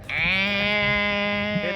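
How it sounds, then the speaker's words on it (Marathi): A calf gives one long, drawn-out bleat, close and fairly loud, wavering slightly before it fades. "वासरूचा आवाज झाला"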